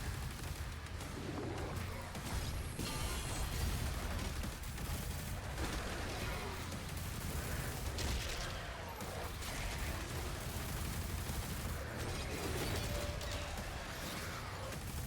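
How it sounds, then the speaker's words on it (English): Enemies firing at the player in Doom The Dark Ages, a dense, continuous barrage of gunfire, booms and crashes mixed with heavy game effects, steady and fairly faint throughout. "Whoa, they shooting at me before even I mean like in the view."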